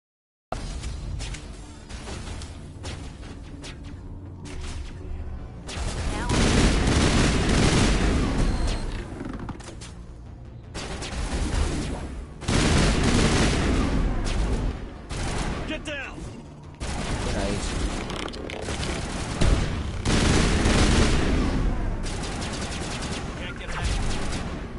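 Sustained gunfire from a machine gun during combat in Mass Effect Legendary Edition, loud and continuous in dense bursts with booming impacts, over a busy game soundscape with voices.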